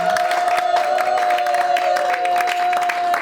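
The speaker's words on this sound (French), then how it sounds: "applause for our leader" A church congregation applauds and cheers for its leader during a thanksgiving celebration, a dense continuous burst of clapping and crowd voices with a sustained tone running through it.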